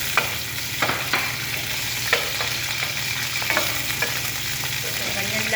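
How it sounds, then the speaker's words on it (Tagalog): Garlic skins frying in oil give a continuous close sizzle, with occasional light taps and scrapes of a utensil against the pan. "Pwede na rin natin ilunod yung ating balat ng"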